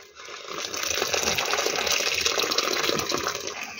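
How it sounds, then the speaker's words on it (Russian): Water pours steadily into a pot of lamb shurpa, a close continuous gushing splash lasting a few seconds with no voices. "вот сейчас добавлю водички"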